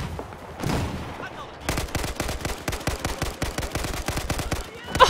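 AK5C rifle fire in Battlefield 4 on PC: a short opening burst, then a long rapid string of close, loud automatic shots with faint game voices in the background.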